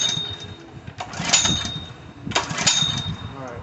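Third Lung hookah dive compressor engine being pull-started and failing to catch, two loud broadband bursts of cranking near 1.2 and 2.6 seconds with weaker mechanical noise between.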